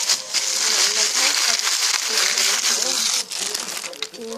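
A thin vinyl plastic glove crinkles and rustles continuously up close, a dense crackling texture running under a person talking.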